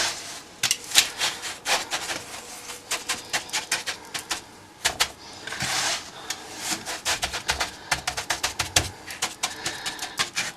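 Coarse salt being spread and pressed into a baking dish to make a bed for sea bass, heard as close, dry gritty rubbing and crunching with quick scratchy bursts and pauses, no talking.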